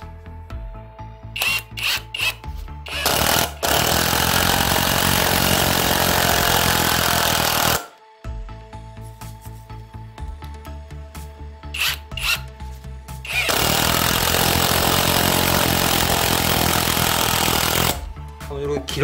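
A cordless impact driver running on a battery rebuilt with Samsung 18650 cells drives a screw into an upright board, with loud bursts of rattling, hammering torque separated by brief pauses. A voice talks in between.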